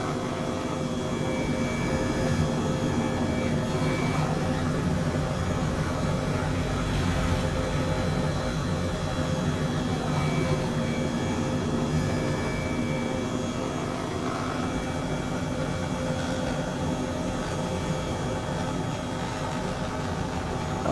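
An H135 helicopter flying in Microsoft Flight Simulator near Nice and Monaco, giving a steady, continuous turbine and rotor drone that holds an even loudness throughout with no talk.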